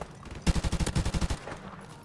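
An AK-74U fires a rapid, even burst of about a dozen rounds in Call of Duty 4: Modern Warfare Remastered, each shot punchy and close, followed by a short fading tail.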